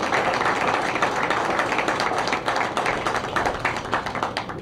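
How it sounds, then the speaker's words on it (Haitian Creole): A crowd gives dense applause for police officers at a ceremony in Haiti, steady clapping that lasts a few seconds with scattered sharper claps. "Je demande tout le monde un gros bravo aux policiers et policières."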